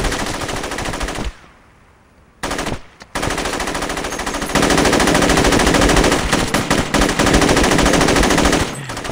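Machine gun fire in a video game, rapid loud bursts with a brief pause, then long sustained rattling streams of shots, no talk over them.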